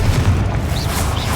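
A Confringo blasting spell going off in Hogwarts Legacy, a deep booming explosion that rumbles loud and close for its whole short length, with no talk.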